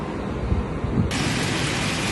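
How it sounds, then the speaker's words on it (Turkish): A steady, dense roar of heavy precipitation and wind fills the whole clip, a constant broadband wash with no talk, like hail pelting outdoors. "Dışarıda çok şiddetli rüzgarla birlikte dolu, dolu yağıyor."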